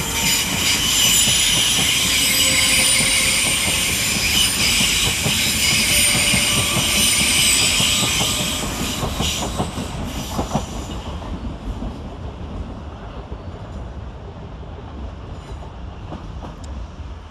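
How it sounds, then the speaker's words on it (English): South Western Railway Class 458 units 458523 and 458536 pull away on a Hounslow to London Waterloo service at Clapham Junction, a loud steady roar of wheels and motors with high wheel squeal that fades after about ten seconds as the train recedes. "we see the departure of 458523 and 458536 with the 1922 South Western Railway service from Hounslow to London Waterloo"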